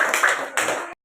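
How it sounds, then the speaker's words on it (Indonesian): Classroom of sixth-grade pupils clapping for a group after a coding lesson, a dense burst of hand claps for about a second before stopping abruptly. "kasih tepuk tangan untuk kelompok 1 dulu"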